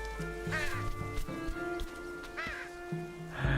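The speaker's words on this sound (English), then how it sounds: "And crows." Crows caw in the Unravel video game, several harsh calls spaced out over a few seconds against a quiet ambient game backdrop.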